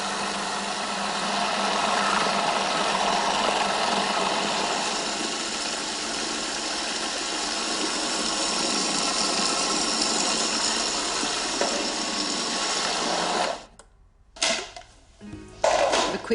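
Food processor motor running while mixing, a steady loud whirring drone for about thirteen seconds before it cuts off, followed by a few brief clunks.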